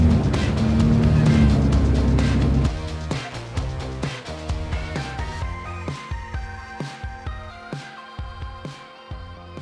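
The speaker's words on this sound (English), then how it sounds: "another little rock crawl or uphill area here. Nothing that our Jeeps can't handle." A Jeep JK climbing a rocky uphill section on Moab's Steel Bender trail, its engine droning steadily, then revving in repeated rhythmic bursts as it crawls over the rocks.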